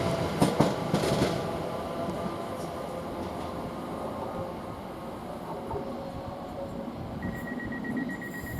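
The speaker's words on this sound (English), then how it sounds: "And we also got a Elizabeth line leaving at the same time here." An Elizabeth line train departing Shenfield station, a steady rolling rumble and clatter of wheels on rails that continues for several seconds, with a brief high electronic tone near the end.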